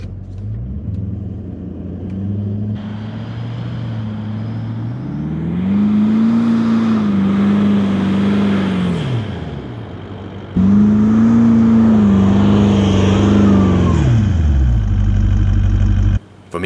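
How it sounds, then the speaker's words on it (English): A Toyota Land Cruiser LC200 in rock mode pulls through sand, heard from inside the cabin as a loud engine drone that rises and holds in two long surges, then drops back, with faint mechanical clicks and a brief voice. "From inside the vehicle, we can hear the traction control system engage and hinder momentum from the very start."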